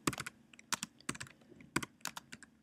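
Rapid bursts of keystrokes on a computer keyboard during a typing-program lesson, uneven clusters of crisp clicks close to the microphone with brief pauses between them, no voices.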